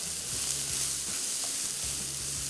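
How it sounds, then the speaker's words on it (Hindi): Chicken kachori filling with spices frying in a pan, a steady close sizzle with soft stirring scrapes and a low hum running underneath, no talking. "तो इसको भूनते जाएंगे"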